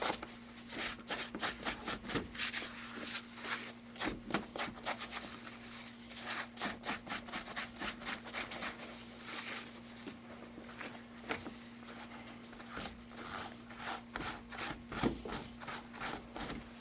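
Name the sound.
scrubbing animal ears clean for taxidermy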